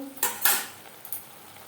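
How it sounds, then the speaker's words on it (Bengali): Metal utensil scraping and clinking against a pan while red chili powder is stirred into cooking spices for a Bengali fish curry, two short bursts of scraping followed by a fainter clink, close and without talk. "রেড চিলি পাউডার মশলার সাথে বেশ ভালো করে মিক্সড করে দেব"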